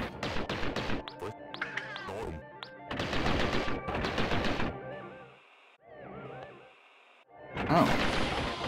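Rapid bursts of gunfire from the Big Shot module weapon upgrade in the video game Gato Roboto, sharp repeated blasts in clusters with a quieter stretch of game effects midway before a final loud burst.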